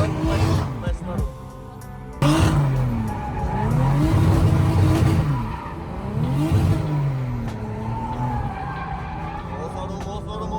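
BMW E36 doing donuts, its engine revving up and down in repeated sweeping swells with tire squeal mixed in, loud and close, while a voice coaches over the top.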